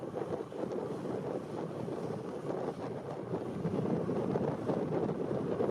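Passenger ship MS Binz arriving at Sassnitz harbor on the Baltic coast, with a steady low rumble of engine and water mixed with wind buffeting the microphone throughout.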